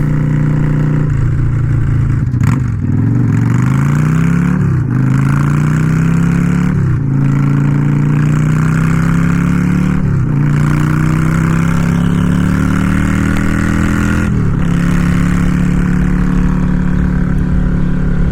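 A Yamaha V-Star XVS 650 cruiser motorcycle engine rumbles steadily up close, with deep uneven idle and several revs that rise and then settle back.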